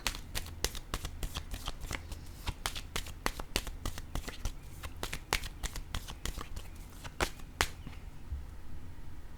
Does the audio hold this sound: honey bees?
no